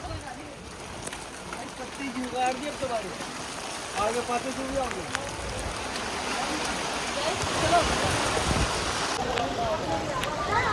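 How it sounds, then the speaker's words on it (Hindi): Heavy rain pours down outdoors in a steady, dense hiss that swells slightly louder toward the end, with voices speaking over it. "बहुत मजा और बारिश आ रही है खतरनाक"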